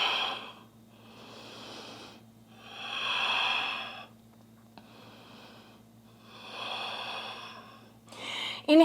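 Heavy breaths in a yoga down dog hold during a vivinyasa flow class: slow, audible inhales and exhales in long swells about every two to three seconds, close and breathy over a faint steady hum.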